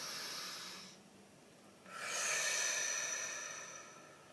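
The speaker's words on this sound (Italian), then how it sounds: "facciamo un bel respiro profondo" A deep, audible breath taken close to the mic: a long airy exhale, a short pause, then a strong, rising inhale that fades out slowly, with no talking.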